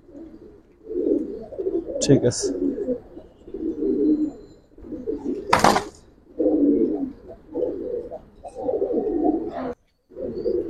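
A silver Giribaz pigeon coos repeatedly in a cage, with low rolling calls recurring through the stretch and someone talking briefly over them.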